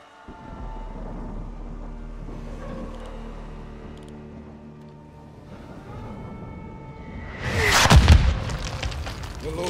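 A deep mortar blast in Call of Duty: Modern Warfare 2, with low rumbling battle ambience building to one sharp, loud explosion near the end, then a fading roar.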